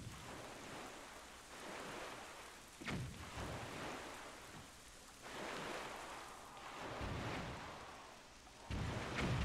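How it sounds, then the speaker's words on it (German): Steady heavy rain hisses over open sea in the video game The Legend of Zelda: The Wind Waker HD, with low thunder rumbles rolling in several times, loud and close throughout, no voices. "Hier regnet es irgendwie ziemlich heftig"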